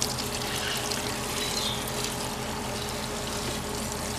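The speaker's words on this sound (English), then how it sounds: "I'm going to get some water from my watering pail here," Water pours from a watering pail into a backyard composter in a steady, close splashing stream lasting the whole few seconds, with no talk.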